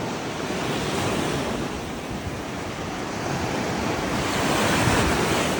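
Sea surf at Lebedivka, Ukraine, rolls and crashes continuously while wind buffets the microphone, a loud, steady roar with no voices.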